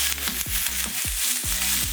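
Garlic hitting a hot pot gives a steady, loud sizzle, close up, with a few quick scrapes and taps of a utensil against the pot.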